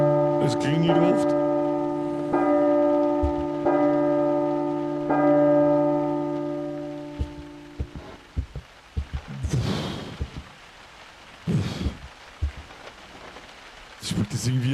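A ringing bell in a video game, sounding as a sustained tonal chime repeated several times in a steady pattern, fairly loud, later giving way to scattered noisy bursts.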